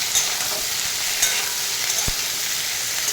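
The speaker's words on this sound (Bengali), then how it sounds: "আর এই যে পটল আলু আর পেঁয়াজ একসাথে দিয়ে দিচ্ছি। দিয়ে এখন ভাজবো।" Pointed gourd, potato and onion fry together in a pan with a steady hissing sizzle, broken by light stirring scrapes and one sharp knock of the utensil against the pan.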